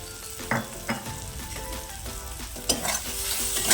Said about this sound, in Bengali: দিয়ে আরেকটু ভালো করে মশলাটাকে কষিয়ে নেব